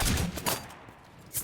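Gunfire in the Enlisted video game with an SMLE Mk 3 bolt-action rifle, loud sharp shots at the start, around mid-way and again at the end, with quieter battle noise between.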